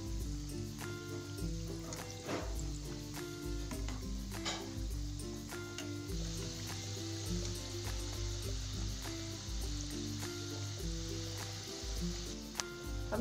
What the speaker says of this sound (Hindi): दूसरे साइड से इनको हम फ्राई करेंगे